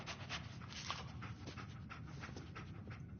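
Dogmeat, the dog companion in the video game Fallout 4, panting in steady, rapid breaths close by, with faint whimpery notes and no talking.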